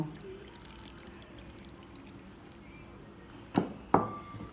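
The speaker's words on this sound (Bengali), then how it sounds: "এখন আমি এই আমের মধ্যে দুধ ঢেলে দেব" Milk pours over peeled mango in a bowl with a soft, low, steady trickle. Two sharper splashes come close together near the end.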